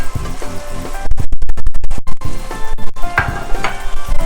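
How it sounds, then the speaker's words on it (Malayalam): Chicken is stirred with coriander powder, chilli powder, fennel powder and turmeric in a pan, giving a loud close sizzle with repeated scraping and stirring strokes. "എന്നിട്ട് നന്നായൊന്ന് മിക്സ് ചെയ്യുക."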